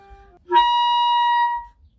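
A single sustained high C on clarinet, the top note of the clarion register, held steadily for about a second, close and clear, with a brief lower tone just before it.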